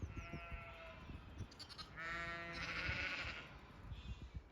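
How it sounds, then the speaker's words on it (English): Sheep bleat repeatedly in an open field in Scotland or the Lake District, several overlapping calls at moderate distance over a faint windy outdoor background; no one speaks. "Now we're going through a field with the sheep."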